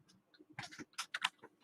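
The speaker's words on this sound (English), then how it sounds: "I didn't mean stop typing." A computer keyboard is typed in a quick burst of soft clicks and taps, irregular and fairly close, with no talking.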